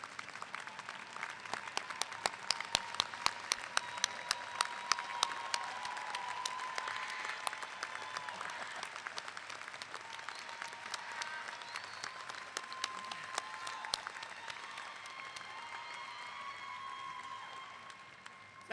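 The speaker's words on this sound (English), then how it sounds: "round of applause" A graduation audience at a 2017 Rider University commencement gives sustained applause, a dense, fairly distant wash of many hands clapping that holds steady for nearly twenty seconds, with faint crowd murmur underneath.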